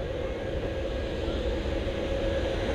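A private jet on the runway at Manchester Airport, heard as a steady, loud engine roar with broadband rumble held throughout, with no talk over it.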